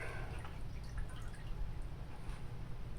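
Steady water trickling and dripping from the water feed of a 2600W 14-inch concrete saw, under a continuous low rumble, with faint scattered drips.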